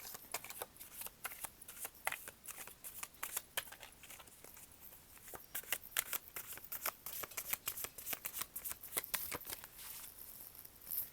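Tarot cards being shuffled over and over, a close, papery flutter of quick riffles and snaps continuing steadily without any voices.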